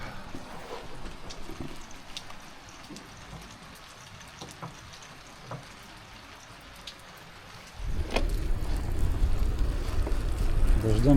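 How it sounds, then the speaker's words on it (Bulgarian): Rain falling steadily on a gazebo roof in an outdoor rest stop, a soft patter with scattered drop hits that grows louder and denser near the end. "Все още продължава да вали."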